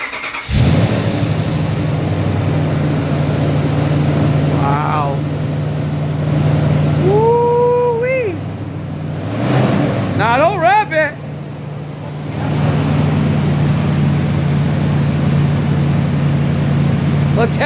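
An engine cranks and catches on a first start with a fresh Diablo tune loaded, then settles into a steady, close idle while several people talk excitedly over it.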